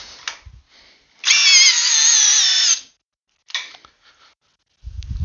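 A HyperTough 12V brushless drill with a fully charged 1.5 Ah battery, set to speed one in drill mode, runs in a loud steady whine for about a second and a half under a torque test, with faint mechanical clicks around it.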